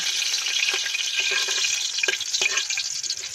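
Garlic sizzles steadily in a pan over a wood fire, a dense crackling hiss with small pops and stirring scrapes scattered through it, close and continuous.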